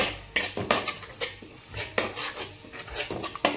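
Metal utensil clatter against a pan while fish curry masala is sautéed in oil, a run of sharp scrapes and knocks repeating about every half second, close and fairly loud, with no talk.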